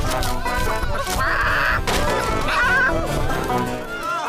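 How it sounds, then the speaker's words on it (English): A cartoon chicken clucks in short bursts over busy, loud background music and sound effects, in a children's animated fairy-tale kingdom scene. "A chicken's escaped! Catch that chicken!"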